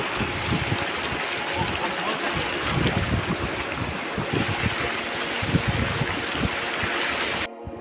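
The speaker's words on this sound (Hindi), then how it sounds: "देखो गाइस यहाँ से पानी बह रहा है" Water flows steadily in a stream at Pattan Chanderseera, a continuous broadband rush and gurgle heard up close and fairly loud, with no voices over it.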